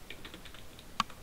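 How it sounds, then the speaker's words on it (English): Quick, light keyboard typing, a run of soft key taps with one louder clack near the end, brief and close. "And start by typing November"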